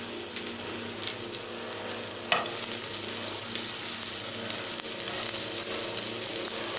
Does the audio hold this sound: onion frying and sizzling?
yes